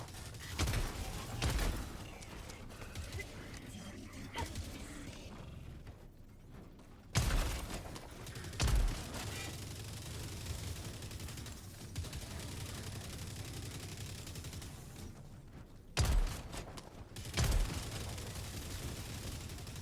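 Gunfire in a shooter video game aimed at Devastator enemies, with a few loud isolated shots and short bursts standing out over a steady, busy background of game noise, with no talk.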